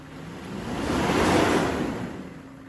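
Mercedes-Benz W140 engine cooling fan blowing hard, a loud steady rushing of air that swells to a peak midway and eases off slightly, with no talk.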